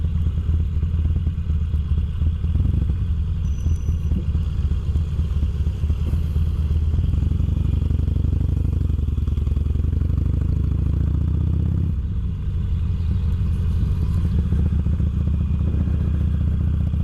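A motorcycle ridden through the English town of Cirencester, its mid-pitched engine droning steadily with wind buffeting and road clatter, rising and easing with throttle changes over a continuous loud bed of noise.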